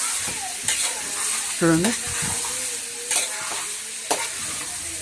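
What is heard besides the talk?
stirring chicken 65 mixture frying in pan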